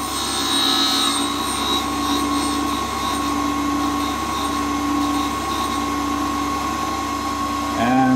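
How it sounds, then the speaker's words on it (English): Engraving cutter bit being ground on a grinder, a steady loud whine with a strong humming drone held throughout, running continuously with no talk, ending with a brief rise in pitch near the finish. "Okay, we're done with grinding, and that's the way our cutter looks."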